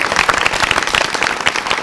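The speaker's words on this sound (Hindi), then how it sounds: "खान साहब के लिए तालियां होनी चाहिए" Brisk, dense applause from a studio audience during a talk show, loud close clapping sustained throughout.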